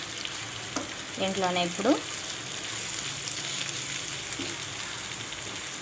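Garlic cloves frying in oil in a pan for an egg chili dish, a steady close sizzle with scraping and stirring strokes, while someone speaks briefly over it.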